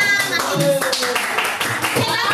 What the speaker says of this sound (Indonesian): Saya tepuk tangan untuk pertanyaannya.